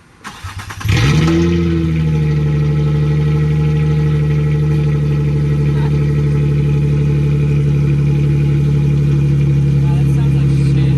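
A Nissan 350Z with its muffler and resonator removed cranks and fires up, then settles into a loud, steady, raspy idle with a deep drone close by.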